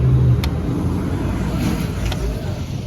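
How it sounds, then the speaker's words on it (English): A big truck rumbles past on a road during a morning walk, a loud, steady low roar with wind buffeting the microphone throughout. "A big truck."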